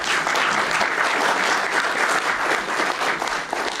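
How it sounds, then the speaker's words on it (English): A crowd at a Portland Retro Gaming Expo talk on Ms. Pac-Man breaks into loud, dense, continuous applause, close and sustained throughout with no speech. "You guys are already clapping."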